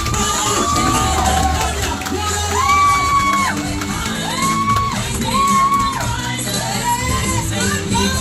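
A crowd cheers and shouts for a youth leader and pageant queen being introduced at an inspirational talk, a loud, steady roar of whoops and voices with repeated rising shouts over continuous noise.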